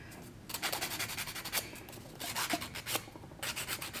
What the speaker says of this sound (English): I'm not filing with much pressure at all, very little pressure